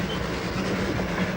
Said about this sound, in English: An observation coach for the #1 connoisseur of all Indian trains, and the Himalayan toy train in particular